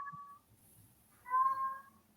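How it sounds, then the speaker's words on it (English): Cats meow in the background of an indoor room, one short call near the start and a longer, louder meow after a pause, both faint and distant. "pardon my cats singing if you can hear them in the background"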